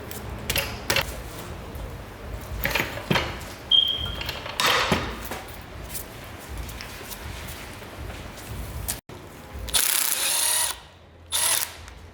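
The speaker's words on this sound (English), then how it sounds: "grab a 1/2 inch ratchet or breaker bar and loosen up this top bolt." A 1/2 inch ratchet loosens a tight, thread-locked bolt on a Honda B series manual transmission housing, with repeated clicking pawl strokes and clanks of tool contact, followed by louder rattling bursts near the end.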